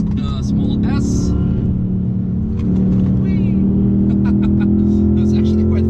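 A car engine drones steadily as it is driven at about 200 km/h through a corner, its pitch gradually rising, while a person talks over it inside the cabin.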